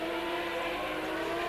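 Formula One race car getting underway at a Grand Prix after a hydraulic problem, heard as a steady, distant engine whine with a sustained tonal drone and no speech.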